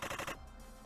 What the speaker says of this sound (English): Machine gun armed bandit wagon